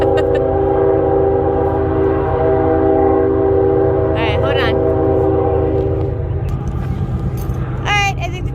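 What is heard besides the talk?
train passing with horn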